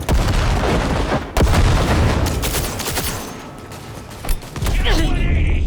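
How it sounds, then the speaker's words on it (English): A grenade blasts during a firefight in Cyberpunk 2077 on very hard difficulty, with a loud, dense rumble of gunfire and explosions, a sharp boom near the middle and another burst later, while a voice talks over the chaos. "It's a fucking grenade!"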